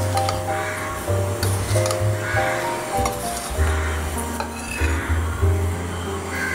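Semolina (rava) dosa batter is stirred in a bowl with steady scraping and occasional clinks of a spoon against the side, close and continuous with a low hum beneath.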